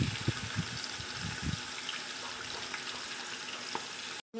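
Minced chicken and hotdog sizzle steadily in a pan for spaghetti Bolognese, a continuous crackling hiss with a few soft stirring knocks at the start and a brief drop to silence near the end.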